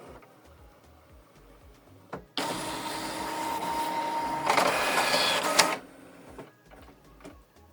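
An HP Envy 6520e printer making a copy: a quiet lead-in gives way to several seconds of loud, steady mechanical whirring and feeding, which cuts off sharply back to near silence.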